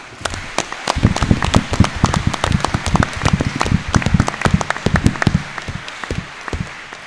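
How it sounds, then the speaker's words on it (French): Applause from a modest audience at a security forum in Champéry, individual sharp claps clearly distinguishable, building in density over several seconds, then thinning out toward the end. "un merci que vous pouvez souligner de vos applaudissements"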